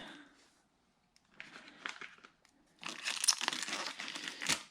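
Plastic packaging being unwrapped from motorcycle turn signals, crisp crinkling and rustling in short bursts, then a longer, louder stretch of crackling close by.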